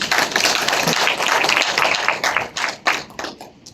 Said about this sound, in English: A round of applause for Chairperson.